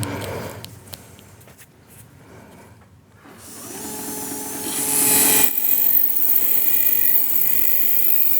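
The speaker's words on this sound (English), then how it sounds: "we'll go and prep with our second burr here, same spot" Dental implant drill running a second burr through the same site in the upper jaw, a steady high whine that rises and grows louder partway through, continuous with no talk.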